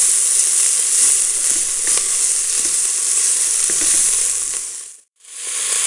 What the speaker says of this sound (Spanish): Añadimos una cucharadita de pimentón y rehogamos ligeramente.